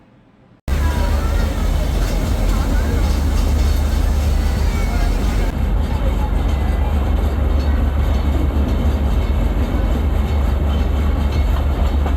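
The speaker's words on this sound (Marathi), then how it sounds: "तर आत्ता मी आहे टॉय ट्रेनमध्ये स्टेशनवर" The Matheran toy train sits at the station, heard from inside the carriage as a loud, steady rumble and mechanical drone that begins abruptly and runs without a break.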